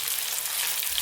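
Lamb frying in a pan as tomato, green chilli and coriander are stirred in: a steady, dense, close sizzle with no pauses and no talk.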